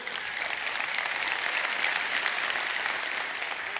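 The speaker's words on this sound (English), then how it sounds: "we can clap for that, that's great" Church congregation applauding during a sermon, a steady, thick roar of many hands clapping at even loudness throughout, with no voices on top.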